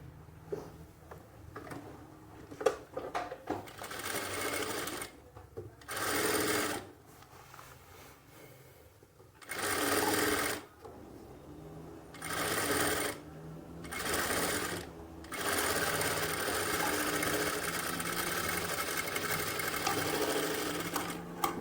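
Sewing machine stitching the armhole of a garment in bursts of rapid whirring, starting and stopping several times with short quiet gaps, close and fairly loud, no voices.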